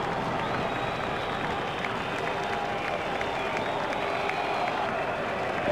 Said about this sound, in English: The crowd really enjoyed that shot.